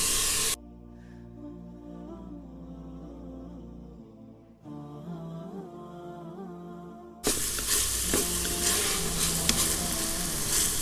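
Meat and onions fry in a pan for an Egyptian Ramadan dish, with a steady close sizzle that drops away during a quieter stretch of background music, then returns loud with stirring scrapes.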